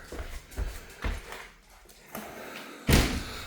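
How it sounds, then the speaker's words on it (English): A door in an empty, cleaned-out fixer-upper building in Northern Michigan is pushed shut, with a few dull knocks and bumps followed by a sharper closing thud near the end, close by. "I'll close this door"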